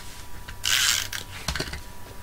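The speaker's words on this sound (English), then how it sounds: "I'm just going to put that down using my snail adhesive" Snail adhesive tape runner rolled across a card mat for a framed festive card, giving a short ratcheting, crackly burst up close followed by a few lighter clicks and rustles, with no talking.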